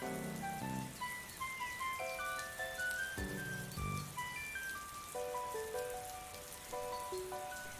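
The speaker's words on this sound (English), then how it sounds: "I've got rainy sounds on, but it's not rainy on my screen." Steady soft rain pattering on a surface, a looped background rain track running continuously under layered melodic game music, with no talk over it.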